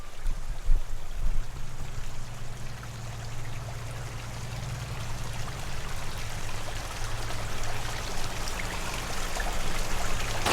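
Fish in a big pond churn the water while feeding on turtle wafers, a dense continuous splashing and sloshing wash that stays steady and fairly loud over a low background hum, with no talk.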